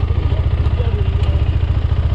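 A heavy motorcycle bogged down in mud, its engine running with a steady low throbbing pulse, loud and close throughout with a faint clatter on top; no talk is heard.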